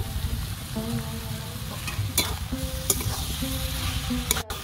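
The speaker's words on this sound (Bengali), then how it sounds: "আলু দিয়ে আমি ভালো করে কষিয়ে নিয়েছি" Potatoes and cabbage stir-fried with spices in a pan for a fish-head cabbage dish, a steady sizzle with scraping stirring strokes and a few sharp clanks of the utensil against the pan.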